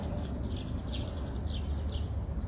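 Birds chirp outdoors in a garden with a magnolia in full bloom, their short calls repeating faintly at a distance over a steady low hum.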